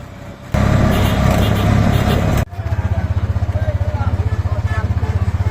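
A CNG auto-rickshaw engine runs during a ride toward Chandpur, a steady loud mechanical drone that shifts after a cut into a rhythmic pulsing idle-like chug, close and continuous.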